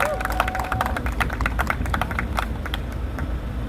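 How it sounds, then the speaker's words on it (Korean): An outdoor crowd at a Daejeon election campaign rally applauds to welcome a speaker, with dense, steady clapping that continues at moderate loudness for several seconds. "박수로 맞아주시기 바랍니다."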